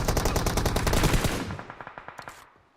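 Video game machine-gun fire rattles in a rapid, loud burst, then slows into a few spaced single shots that fade out toward the end.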